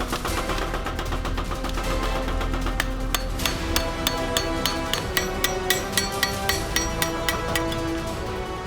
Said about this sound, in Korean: 각도를 잡는 동시에 호미의 날이 강해지게끔 망치질로 견고하게 두드리는 것이 포인트